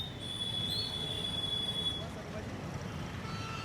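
Metro train at Shiv Vihar station in Delhi near the Loni border, a steady rumble with a high wheel squeal for the first two seconds, mixed with crowd noise.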